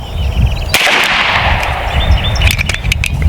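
An AEA Defender 2 air rifle fires a single loud, sharp shot at an outdoor range, followed by a rushing hiss and rumble, then a few faint clicks and taps.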